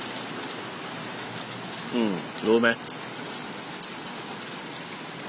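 Natural rain falls steadily in a constant, dense hiss that fills the whole stretch. Someone speaks briefly over it partway through.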